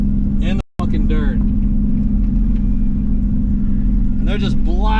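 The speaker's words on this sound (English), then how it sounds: "There's a car just straight doing donuts out here in the dirt." A car spinning donuts on a dirt lot, its engine droning steadily with revving surges, while people talk loudly nearby.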